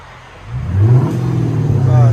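A 2005–2010 Chrysler 300C with a 5.7L HEMI V8 and a MagnaFlow exhaust with rear delete and 4-inch tips revs up from quiet idle into a deep, loud, sustained rumble, with a voice briefly over it.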